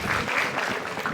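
Audience at a stage dance performance breaking into brief, steady applause, a continuous wash of clapping lasting just over a second.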